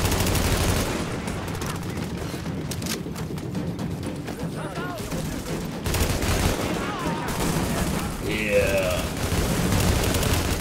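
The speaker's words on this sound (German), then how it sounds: "Ganzes Magazin verballert." Rapid automatic gunfire from a co-op session of the shooter game The Division, firing in dense, sustained bursts that fill nearly the whole stretch, loud and close, with faint voices occasionally underneath.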